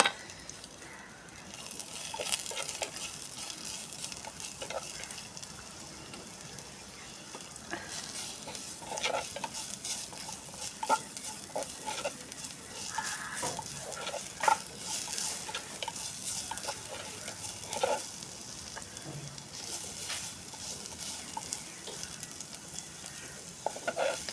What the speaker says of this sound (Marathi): कांदा मस्त भाजला आता